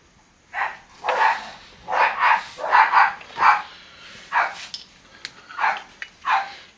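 A small dog named Chocolate barks repeatedly in loud, close, sharp yaps, about a dozen in irregular bursts with brief pauses between them, with no talking.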